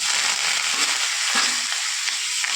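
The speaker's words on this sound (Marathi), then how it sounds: "काश्मीरी लाल मिरची टाकूया एक चमचा आणि कोथिंबीर टाकूया" Kashmiri red chilli and coriander sizzle hard in a hot tadka, a loud, bright, continuous hiss with small crackles and no talk.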